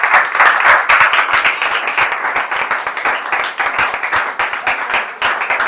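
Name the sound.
class clapping hands, applause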